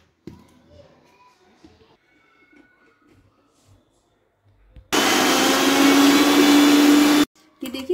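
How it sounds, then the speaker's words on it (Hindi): A mixer grinder coarsely grinds sweet peas in a sudden loud, steady whir of a couple of seconds with a rising pitch, following quieter kitchen handling noises. "देखिए इस तरह से हम इसको थोड़ा मोटा मोटा पीस लेंगे, बिल्कुल बारीक नहीं करना है"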